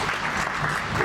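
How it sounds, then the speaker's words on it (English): Audience applause fills a conference hall at an official opening session, a dense, steady wash of clapping from a large crowd that runs throughout without a break. "Let's take a moment to applaud the progress,"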